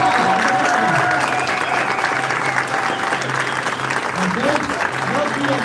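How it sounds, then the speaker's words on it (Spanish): Audience applause at a corporate event for 4Life Research, a steady, loud wash of clapping filling the room throughout, with a faint tone and some crowd murmur underneath. "Fuerte, aplauso."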